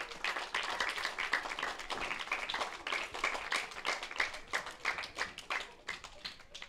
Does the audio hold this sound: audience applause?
yes